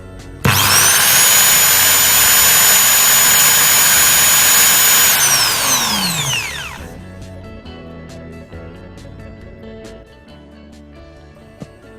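A Bosch GSB 550 RE 13mm impact drill, made in China, whines up abruptly and runs at a loud, steady high pitch for several seconds, then spins down with a falling tone, followed by faint clicks and handling noise.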